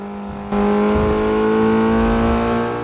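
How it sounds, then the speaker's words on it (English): A small Fiat 500 Abarth engine in Forza Motorsport 6 revs up sharply and holds a buzzing, rising pitch, a loud continuous whine, with no voices. "Listen to the little Fiat rev."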